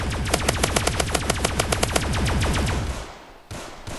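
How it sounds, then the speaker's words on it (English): Laser gun in the Roblox game Zombie Rush firing in a rapid, steady stream of sharp repeated electronic shots, loud and close, ending in a sustained burst that fades out with no talking. "I love this laser gun."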